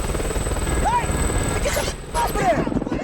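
A helicopter from the 2007 film 28 Weeks Later whirs as a steady rotor drone throughout, partly masked by people talking and reacting over it.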